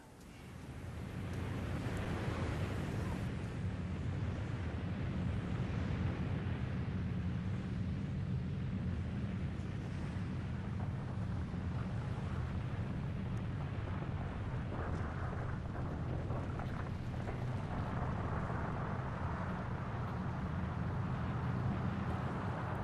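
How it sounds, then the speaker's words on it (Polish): A deep, continuous rumbling roar of a snow avalanche thundering down into a valley in the Greater Caucasus mountains at a distance, steady and broad with no voices. "Tysiące ton śniegu z hukiem spadają do dolin"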